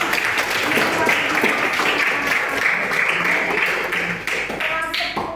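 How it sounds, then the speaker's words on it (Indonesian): A tenth-grade class in an Indonesian school claps for classmates, a sustained patter of many hands at close range, tapering toward the end with a few voices underneath. "Kasih tepuk tangannya."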